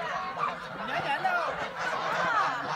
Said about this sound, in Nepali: हाँसहरू पनि रहेछन्